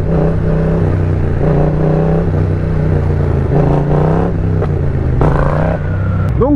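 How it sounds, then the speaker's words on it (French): A loud motorcycle engine drones and revs close by during a wheelie, pitch shifting up and down continuously with mechanical clatter throughout as the throttle is cut and the bike rolls on the brake. "Je coupe les gaz et je laisse la moto couler, je gère avec le frein."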